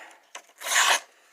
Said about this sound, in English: Still cuts paper.